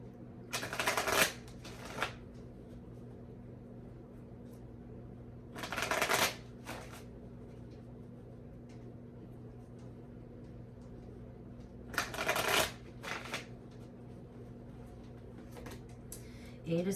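Tarot cards shuffled in several short, brisk riffling bursts spaced a few seconds apart, close by against a low steady background hum.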